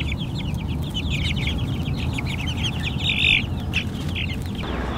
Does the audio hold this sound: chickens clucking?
yes